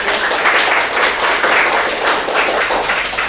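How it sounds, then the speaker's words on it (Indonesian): Loud, dense clapping from a classroom group after a student team's presentation, a sustained burst of many hands with no voices over it. "Beri tepuk tangan kami"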